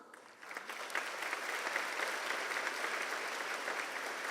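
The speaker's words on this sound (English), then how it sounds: "Round of applause." A banquet audience at a European Day dinner applauding to welcome the chairman of the European Chamber of Commerce Taiwan, dense steady clapping rising quickly and holding for about four seconds, heard at a moderate distance.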